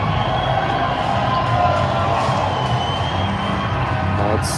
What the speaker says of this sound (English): What's the cheering for?